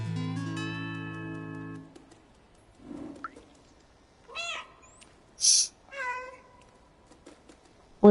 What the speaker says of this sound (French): Oui, on peut souvent le faire miauler aussi.